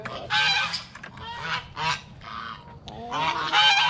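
A family of geese honking during bird feeding, several loud, close nasal honks in quick bursts overlapping one another, with brief pauses between calls.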